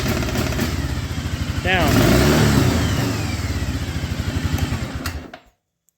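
An Arctic Cat Bearcat 454 snowmobile engine runs rough with a pulsing, loud throb, surges briefly, then sputters and dies into silence, while someone speaks briefly over it.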